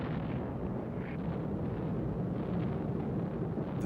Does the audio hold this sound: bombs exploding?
yes